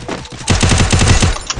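Rapid automatic gunfire in a 4v4 wager match of a shooter video game, a dense loud burst of repeated shots after a brief quieter lead-in.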